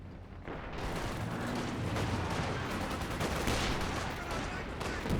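Light machine gun fire rattles through a Company of Heroes 2 battle, a steady wash of rapid distant gunfire and combat noise that fills the whole stretch without letup.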